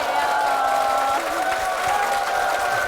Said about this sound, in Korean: 많은 분들의 박수와 함성으로 시작을 했습니다